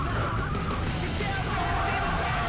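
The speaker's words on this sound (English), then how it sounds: "the engine of this car super loud. I mean, it's how, you know, Formula cars normally sound, but it's still quite loud." A Formula car engine roars in the Burnout Legends racing game, a loud continuous drone with rising and shifting pitch and some tyre noise, close and filling the whole stretch.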